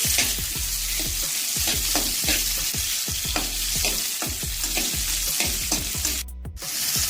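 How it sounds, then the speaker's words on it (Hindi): Ingredients for pineapple chicken sauté in hot oil with a bright, continuous sizzle and frequent rhythmic scrapes of a spatula against the pan, briefly pausing near the end; no talking. "1 मिनट हो गया इन्हें सौते करते हुए"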